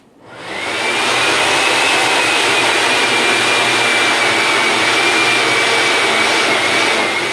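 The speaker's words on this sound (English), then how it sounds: "we're going to blend our 8 cups of blueberries, and we're going to kind of get a puree going on these things" A countertop blender purees eight cups of fresh blueberries for cinnamon blueberry jam, spinning up into a loud, steady, high-pitched whir that holds unbroken for several seconds, close and without any voices.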